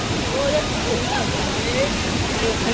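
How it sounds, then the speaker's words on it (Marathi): A roaring waterfall, Rautwadi falls in India, fills the air with a constant loud rush of water, while a voice speaks faintly beneath the noise. "हा राऊतवाडीचा धबधबा"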